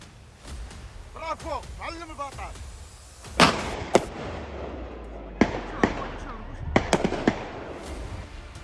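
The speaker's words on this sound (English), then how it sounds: "The scope was adjusted and the barrel continued to fire." Rifle shots ring out during a wild boar hunt, several sharp cracks spaced irregularly in the second half, preceded by a voice speaking and outdoor background noise.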